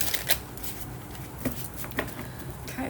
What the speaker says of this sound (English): Okay, cards are shuffled.